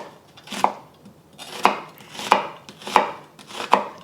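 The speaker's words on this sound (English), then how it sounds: "I have half of an onion here, and we're just gonna finely chop it" Half an onion being finely chopped with a knife on a board, five crisp, evenly spaced knife strikes sounding close and clear with no talking.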